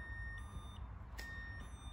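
A Dacia Sandero Stepway's key-left-in-ignition warning sounds as a steady electronic tone held for the whole span inside the car, with one brief click partway through.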